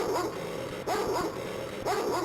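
Earthworm Jim video game dog barking in repeated sharp bursts, roughly three yips in quick succession, over a continuous backing music track.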